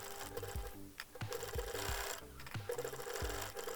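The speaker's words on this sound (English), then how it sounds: "The last thing to pre-sew will be the wings. So I'm going to do that fairly quick" A sewing machine stitches plush dragon wings in quick bursts, its needle thumping in rapid rhythmic runs broken by short pauses, close up and clear with no voices.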